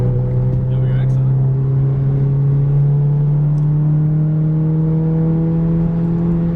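A 2JZ-powered car engine holding high revs with a steady, loud drone and strong harmonics, constant and unbroken throughout, with no talk over it.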